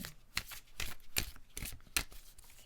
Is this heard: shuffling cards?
yes